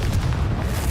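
A short, booming blast from the Confringo fire spell in the video game Hogwarts Legacy, a single loud, dull explosion with a rumbling low end, heard alone.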